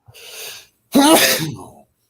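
A single loud sneeze preceded by a sharp breath in, close up, then quiet.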